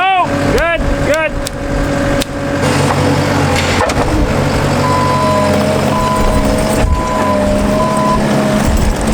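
A skid loader fitted with a tire grabber reverses on a farm, steady reversing beeps ringing out repeatedly over a loud diesel engine rumble, with people talking nearby.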